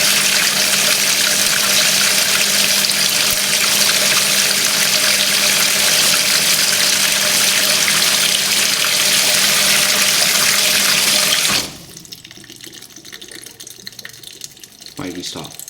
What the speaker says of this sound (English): does fill quite quickly. It's not that big of a tub, but then again, we have great water pressure